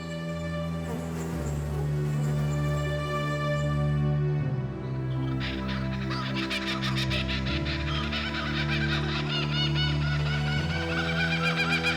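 Waterfowl at a lake in the center of Murramarang National Park honk and cluck repeatedly, with goose-like calls overlapping in a busy, steady chorus at close to mid range and no voices.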